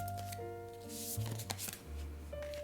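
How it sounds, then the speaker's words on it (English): Tarot cards are shuffled and drawn by hand, a quick run of soft, close riffling and slapping card sounds, with faint steady musical tones in the background. "Let's go ahead and pull some moon cards."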